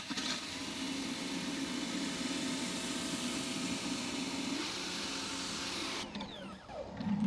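An EGO 3200 battery pressure washer fitted with a surface cleaner runs on its high setting, a steady, dense hiss and whir held nearly unchanged for several seconds before it briefly dips.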